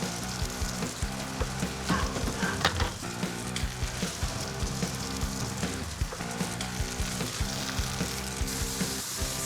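Boneless, skinless pork chops sear in an uncovered pan with a loud, steady sizzle and bursts of crackling spatter up close, over soft background music.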